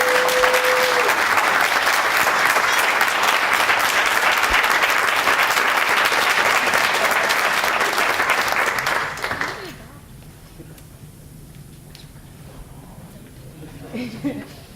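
A crowd at a vets event gives a loud, sustained round of applause for about nine seconds before it cuts off into near quiet with faint room noise.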